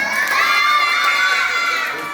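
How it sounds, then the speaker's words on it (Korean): Loud, excited crowd of children shouting and cheering together at a taekwondo school birthday board-breaking event, sustained and close, without clear separate clapping. "자 다시 한 번 우리 아영이 생애 여덟 번째 생일 정말 축하한다고 인사해주는 큰 박수 쳐줍니다"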